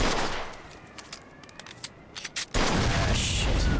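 Gunfire in the video game Mafia: a scatter of quick shots followed by a sudden loud sustained burst, like a vehicle gas tank exploding, ending the clip with heavy noise.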